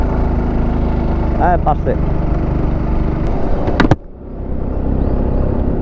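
A car engine-brakes in third gear down a steep hill road, a loud, steady engine drone up close that drops off suddenly near the end, with a brief remark spoken over it.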